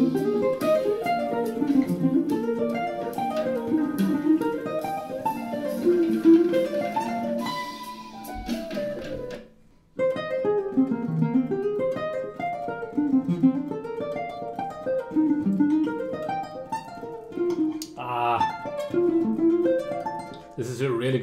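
Clean guitar plays a phrase, moving it around in quick melodic runs with a brief pause midway, heard alone at moderate level.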